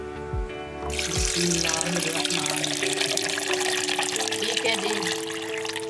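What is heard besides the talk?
water being poured into lychees for juice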